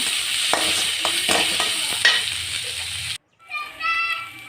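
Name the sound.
onions sautéing in a pan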